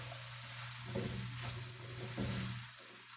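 Food frying in a pan as it is stirred, a quiet steady sizzle with soft intermittent scraping strokes and a low background hum.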